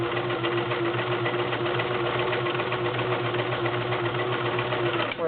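A vintage Kenmore model 1351 convertible sewing machine runs steadily, stitching a stretch zigzag pattern with a constant motor whir and fast, even needle clatter throughout, close and alone.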